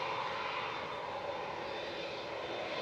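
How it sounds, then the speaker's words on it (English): Engines of a Boeing 787-8 Dreamliner at Manchester Airport give a steady, broad roar with no break, fairly distant and unchanging for the whole stretch. "2E flight 2622 to Palma de Mallorca. This is 2EB, a 787-8 Dreamliner."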